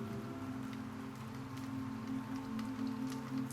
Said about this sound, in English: The rain continues outside, tapping the glass roof in a calm rhythm.